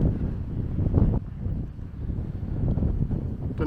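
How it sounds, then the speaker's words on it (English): Wind gusts through a valley near Pistyll Rhaeadr and Cadair Berwyn, a loud rumbling buffet that pushes hard against the microphone and swells and fades unevenly. "So now we're going round into the valley, the very windy valley at the moment"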